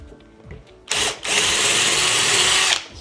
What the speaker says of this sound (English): Now if you're drilling a hole, here's the included drill bit.